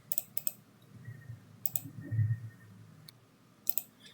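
Mouse clicks on a computer while setting up a Google Cloud virtual machine: several sharp, quiet clicks spaced irregularly over a faint low background hum, with no talking.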